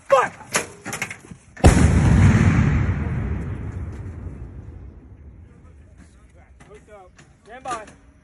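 An Army artillery gun fires during a paratrooper fire mission in the Panther Avalanche 2024 exercise, one loud sudden boom followed by a long rolling rumble that fades over several seconds, with faint shouting before and after.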